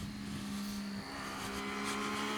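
A 2023 Triumph Street Triple RS motorcycle engine hums steadily at close range, a fairly faint, even drone with a slight shift in pitch midway and no talking over it.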